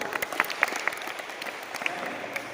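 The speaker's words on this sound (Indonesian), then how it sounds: "Berikan tepuk tangan untuk kelompok 1" A classroom full of students applauds steadily throughout, a dense patter of hand claps with a few sharper claps standing out.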